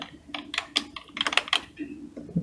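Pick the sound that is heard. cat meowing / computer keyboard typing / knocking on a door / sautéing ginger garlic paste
computer keyboard typing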